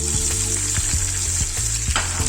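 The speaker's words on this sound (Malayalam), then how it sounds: "ഈ എണ്ണയിലേക്ക് തന്നെ സവാള ഇട്ട് കൊടുക്കാം." Sliced onions fry on a high flame in hot oil for kaada biriyani, giving a loud, continuous sizzle with a few stirring scrapes at regular intervals and no talk.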